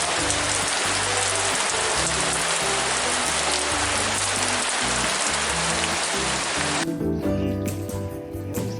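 Heavy rain drums steadily on a lake surface and nearby surfaces during a fishing outing, a loud dense hiss that cuts off sharply near the end, leaving quieter dripping and ambient noise.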